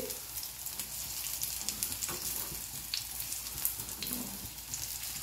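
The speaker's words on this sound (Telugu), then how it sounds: "చాలా చిన్నగా మనం ఇలాగా చక్కగా తిప్పుకుంటూ చక్కగా ఇందులో వేగుతాయండి." Small mango jamuns fry in hot oil while being turned: a close, continuous crackling sizzle with faint stirring clicks throughout.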